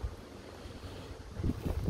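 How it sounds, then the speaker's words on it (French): Strong outdoor wind at a beehive site rushes and buffets the microphone in a continuous low roar that swells into heavier gusts near the end. "il y a un vent assez fort"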